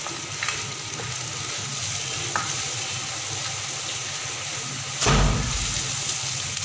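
Chicken and bitter gourd frying in a pan with salt, chili and turmeric, a steady close sizzle with occasional stirring scrapes and a louder burst of sizzling near the end.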